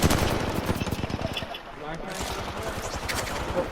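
Rapid automatic gunfire in an Apex Legends match, a dense run of close, loud shots in the first half, a short lull, then another steady burst with faint game noise around it.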